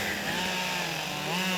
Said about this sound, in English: This starts with cross-cutting the logs into 28-inch pieces with a chainsaw.